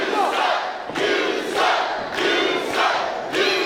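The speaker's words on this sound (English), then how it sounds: "We got a "You Suck" chant going here already" Wrestling crowd at a CCW Chaos event chanting "You suck" in a loud, rhythmic, repeating pattern of two-beat shouts, a large arena mass of voices pulsing roughly every second.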